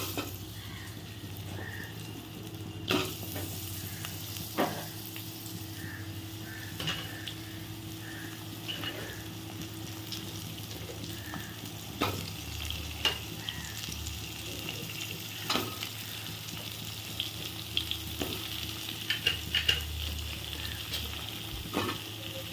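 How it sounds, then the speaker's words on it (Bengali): Papaya pieces and cumin seeds frying in a pan, a steady close sizzle with scattered clicks and scrapes of stirring throughout. "জিরেটা হালকা ভাজা হবে। এবারে দিয়ে দেব পেঁপেগুলো।"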